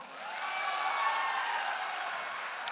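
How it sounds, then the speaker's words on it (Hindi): A soft, continuous wash of audience applause in a hall during a company MD's speech, fairly distant and even, with no talking over it. "अरे भाई ताली बजाओ"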